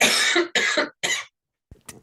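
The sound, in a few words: cough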